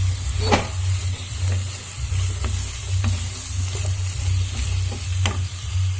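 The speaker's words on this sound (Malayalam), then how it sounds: "ഇതിലേക്ക് എടുത്ത് വെച്ചിരിക്കുന്ന പച്ചമുളക് ചേർത്ത് കൊടുക്കാം. നന്നായിട്ടൊന്ന് വഴറ്റിയിട്ടെടുക്കണം." Green chillies sauté in a pan for a soya chunks roast, giving a steady sizzle with scattered sharp scraping taps of a stirring spoon over a constant low hum, close and fairly loud with no talking.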